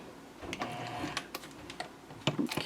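Sewing machine stitching while making a Swoon Denver mini backpack, a few short mechanical clicks and whirring bursts as the needle drops, close and moderately loud with quiet gaps between.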